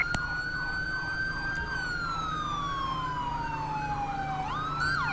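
An ambulance siren in the video game GTA V with the LSPDFR mod wails in a steady, rising and falling cycle, close and prominent, shifting pitch near the end.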